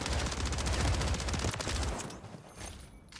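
Rapid automatic gunfire from a close-range fight in the video game Warzone 3, dense bursts of shots for about two seconds that then thin into scattered fainter reports.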